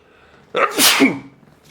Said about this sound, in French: excusez-moi, j'ai peut-être éternué.